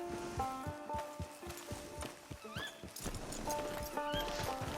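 A horse in the western game Red Dead Redemption 2 clip-clops along in a steady walking rhythm, its hooves close and clear, with a short rising whinny in the middle over a light ambient bed.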